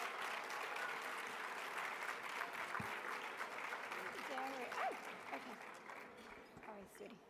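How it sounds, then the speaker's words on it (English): Luncheon audience at an awards event applauding an award recipient, a steady wash of many hands clapping throughout, with some voices murmuring underneath toward the end. "Please give him a round of applause."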